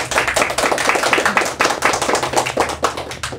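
A studio audience applauds two guests on a talk show, dense close clapping that keeps a brisk, continuous rhythm throughout with no voices over it.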